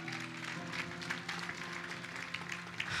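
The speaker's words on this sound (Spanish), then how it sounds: "Denle un aplauso fuerte al Señor." A church congregation applauds, a continuous wash of many hands clapping over a sustained musical tone underneath, moderately loud and steady throughout.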